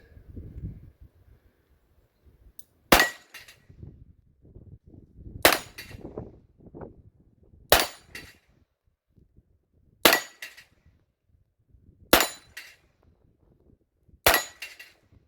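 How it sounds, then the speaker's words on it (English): Six sharp, evenly spaced revolver shots from an aluminum-frame Colt Cobra, each followed by a ringing clang of steel plates, with quiet rustling and shuffling between shots. "I don't shoot it much anymore, but let's see if I can even hit these plates."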